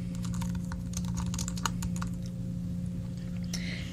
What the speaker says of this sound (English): So I'm going to type in some text.